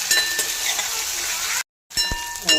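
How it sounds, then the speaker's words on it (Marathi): Onion with ginger-garlic paste sautés in a pan for a rustic eggplant-potato dish, a close, steady sizzle with a few stirring clinks, broken by a brief silent gap before the sizzling resumes. "1 चम्मच आलं लसणाची पेस्ट घालते आणि छान परतून घेते वास जाईपर्यंत"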